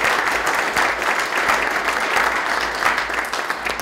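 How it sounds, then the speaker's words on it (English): Dense, steady round of applause from an audience at a university business school event, clapping filling the whole moment at even loudness with no talk. "so if we give them a round of applause, it would be great."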